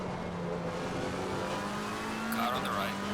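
Race car in Assetto Corsa Competizione at Brands Hatch, a McLaren 720S GT3 engine droning steadily and rising in pitch near the end, with another car's engine briefly sweeping past.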